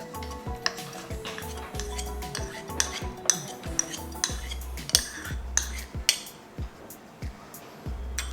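A spoon stirring shahi pulao with fresh cream in a pot: repeated metallic clinks and scrapes against the vessel in an uneven rhythm, close and clear over a low steady hum, with no speech.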